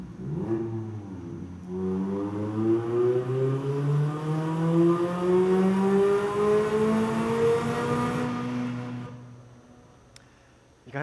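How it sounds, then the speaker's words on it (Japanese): A new Mazda MX-5 Roadster's engine, intake and exhaust note fills a launch event hall, revving steadily upward with rising harmonic tones for about eight seconds before easing off and fading out, with no talking. "エンジン音、吸気音、排気音のチューニングをですね、行いました。"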